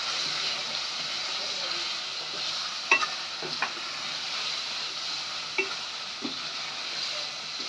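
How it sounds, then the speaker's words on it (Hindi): Chicken with bottle gourd is stir-fried in a pan, with a soft continuous sizzle and a few scattered scrapes and clinks of the spoon, near but fairly quiet. "इसको अच्छी तरह भून लेते हैं"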